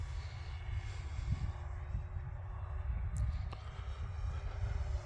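An FMS P-47 radio-controlled model warbird flies overhead, its electric motor giving a steady, fairly distant drone with slight shifts in pitch as it loops and throttles back.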